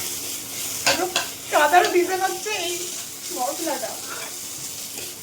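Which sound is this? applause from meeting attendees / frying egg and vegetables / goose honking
frying egg and vegetables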